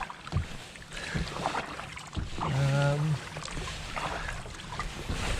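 Paddle strokes splash and dip on water as a canoe moves along during a springtime outing, with a brief tonal creak or hum midway and wind noise around.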